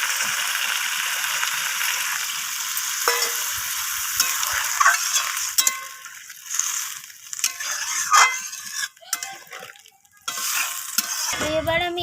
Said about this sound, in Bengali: তো ধনিয়া পাতাটা দিয়ে আমি আবারও নাড়াচাড়া করে নিলাম